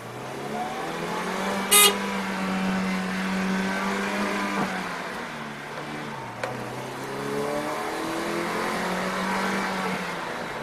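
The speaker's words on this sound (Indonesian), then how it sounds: "Anda bisa lihat di sini tarikannya." A 2019 Suzuki Carry Wide Deck pickup with AC and power steering accelerates along a fairly empty road in Indonesia, its engine drone rising steadily through the gears with a brief dip between shifts, heard from inside the cab.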